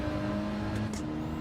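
Gran Turismo 7 race car engine sitting on the rev limiter, a steady buzzing drone with sustained harmonics throughout, loud and continuous with no talk over it.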